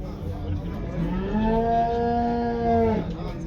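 A single long, low moo from a cow rises and holds for about two seconds, close by, over a murmur of outdoor livestock market noise.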